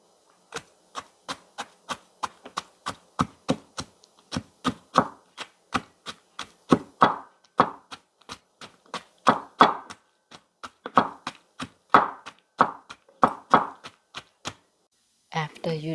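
Knife chopping culantro and eggplant for Khmer fermented mud fish sauce, a steady run of sharp close taps on a cutting board with a few faint murmurs underneath.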